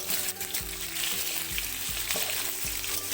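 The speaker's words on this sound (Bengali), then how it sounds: "আলুগুলো নাড়িয়ে নিচ্ছি।" Potatoes fry in a pan and are stirred, giving a steady sizzle under a series of low scraping thumps from the spatula, close and moderately loud, with no talk.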